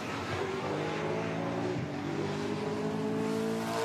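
V8 SuperTourers race car in New Zealand running through the final turn at Waikato, a steady loud engine roar with a brief dip and shift in pitch as it brakes and powers on, no talk.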